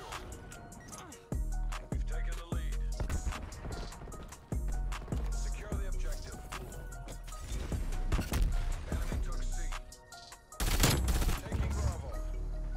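M16 rifle bursts ring out in Call of Duty Black Ops Cold War on the Nuketown map, with repeated tight clusters of sharp shots, several rapid bursts in a row, loud and close, and a heavier blast near the end.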